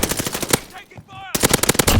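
Automatic gunfire in Call of Duty Warzone: loud, close bursts of rapid shots break off briefly for a short electronic tone and then resume in a dense volley.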